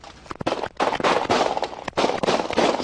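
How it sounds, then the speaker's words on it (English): Gunfire during a police traffic stop in Little Rock, Arkansas: loud sharp bursts of shots in rapid, irregular volleys with brief pauses between them, close and harsh, filling the short stretch with no talk over it. "Some intense video here shows the moments a traffic stop led to gunfire in Little Rock, Arkansas."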